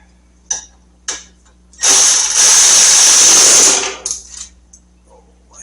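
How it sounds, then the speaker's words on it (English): Tool tightening the fork pinch nuts on a Road King motorcycle front fork, two short clicks, then a loud sustained ratcheting buzz of about two seconds and a few fading ticks, close, no talking. "Now we will tighten down our pinch nuts for the final time."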